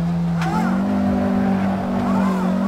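A 1957 Porsche 718 RS 60 Spyder in the Assetto Corsa racing game makes a loud, close engine drone that holds one steady pitch in top gear, with a brief dip and recovery and faint tire noise, and a voice speaks under it.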